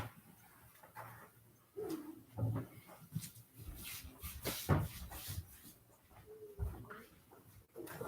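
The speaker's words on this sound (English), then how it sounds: "What is your barking all about?" A dog indoors at home gives a few short, scattered barks and whimpers at moderate distance, mixed with knocks and cupboard-like thumps, with no talking.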